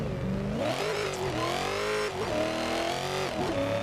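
A supercharged Nissan S14 drifts in a video game racing simulator at Teretonga Park, its engine screaming loud and continuous with rising and falling revs and a faint tire squeal, no talk.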